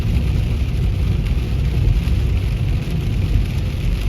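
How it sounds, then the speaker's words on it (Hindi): Steady, dense wash of heavy rain in a mountain range on the Bishkek to Naryn road in Kyrgyzstan, with a low rumbling undertone, constant and loud throughout with no pauses. "और इसके साथ ही बारिश का भी जोर और ज़्यादा हो गया है"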